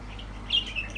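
Faint chirps and squawks from birds in an aviary housing royal pigeons and budgies over a steady background hum, with a few brief calls standing out.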